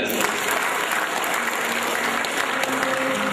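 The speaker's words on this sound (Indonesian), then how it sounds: "Tepuk tangan dulu untuk kita semua." Applause from a seminar audience at an Indonesian motivational event fills the hall, a thick, continuous burst of clapping heard throughout.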